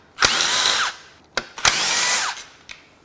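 Power tool spinning bolts loose from the oil baffle of an Audi 3.0L TFSI EA837 engine during a teardown, two loud sustained whirring bursts with a short click between them, close up and without talk.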